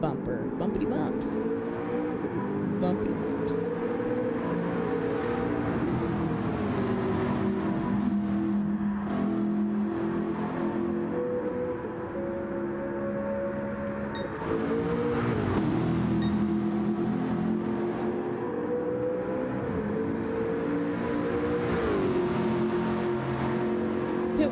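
Race cars roar around a circuit in the GTC World Cup racing video game, with sustained engine drone shifting pitch as they accelerate and brake, running steadily loud beneath continuous commentary voices.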